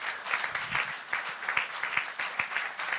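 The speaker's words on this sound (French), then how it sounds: "Acclamons très fort le Seigneur Jésus-Christ." A church congregation applauds during an online worship service, with steady clapping from many hands, moderately loud and continuous throughout.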